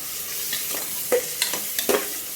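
Onion-tomato masala with coriander, mint and curry leaves stirred in a hot pan: a soft sizzle under a few quick scraping spoon strokes, close up, no voices.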